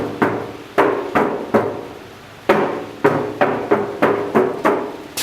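Sharp hollow knocks strike the empty metal passenger door of a 2004 BMW X3 E83, about a dozen raps in uneven bursts, each with a brief boomy ring, close and alone.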